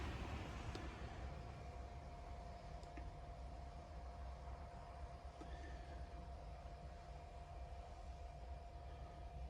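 The rear blower motor of a Nissan NV runs at a steady faint whir with a low rumble. The hum stays fairly even throughout, with a few faint ticks and no talking.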